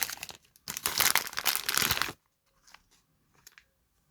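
Plastic wrapping crinkles loudly around a squishy cube for about two seconds, then falls to near silence with a few faint rustles.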